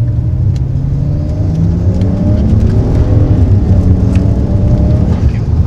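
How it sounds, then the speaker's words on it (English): A BMW 335i's twin-turbo engine pulls hard in second gear from inside the car, a steady loud drone rising gradually in pitch as it accelerates, with faint whir over the top. "Really feel the turbos spooling up."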